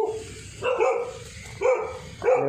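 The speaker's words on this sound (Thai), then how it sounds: "นี่ก็เห่าอยู่ฮะ" A dog barks three times at a rural monks' residence, each bark drawn out and whiny over low background noise, moderately close, with no talk.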